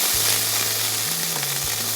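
Chopped onion frying in hot oil in a pan for a Bengali rohu fish curry, a steady soft sizzle with no talking over it throughout.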